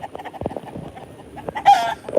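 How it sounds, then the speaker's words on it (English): A chicken on a farm clucking softly nearby in short, scattered notes, followed by a louder, brighter squawk near the end. "That's a bold chicken there."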